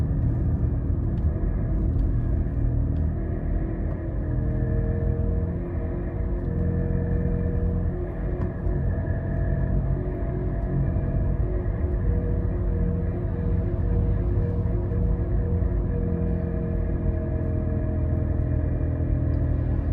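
A steady, loud droning hum and rumble from a bad wheel bearing on a 2022 Mitsubishi, heard from inside the car while it drives, constant throughout with road noise.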